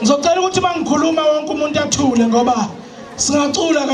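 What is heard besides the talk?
No distinct noise like a dog, phone or traffic.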